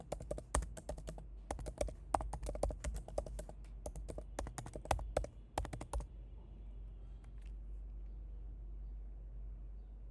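Rapid, close key clicks from a computer keyboard as a KPI name is typed, steady bursts for about six seconds before stopping, leaving a low background hum.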